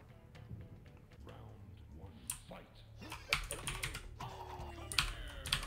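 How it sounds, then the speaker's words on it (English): Clicky typing on a Red Dragon K580 mechanical keyboard with blue switches, quick irregular key clacks up close, with some talking and background game sounds mixed in. "it's a red dragon K580 with blue switches,"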